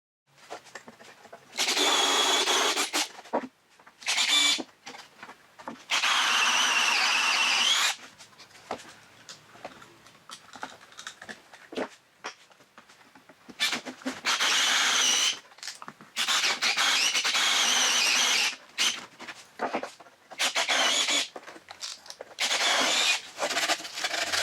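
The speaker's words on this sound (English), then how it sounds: "I'll show you how to drill the holes" A power drill bores holes into the wooden top of a cajon bongo set: close, whirring bursts of a few seconds each, separated by quieter pauses, repeating through the stretch.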